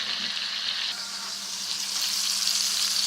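Steady, loud frying sizzle from peppers in a hot skillet, a dense continuous hiss that swells slightly toward the end, with no voices.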